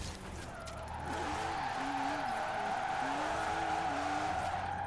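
Tires skid as a car tries to drift through short turns in Forza Horizon 4, a steady engine drone with wavering squeal running continuously at close range, with no talking over it.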